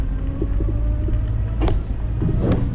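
A truck engine idles with a low, throbbing rumble that cuts out as it stalls while trying to reverse uphill on a narrow Devon lane, leaving a few faint mechanical clunks.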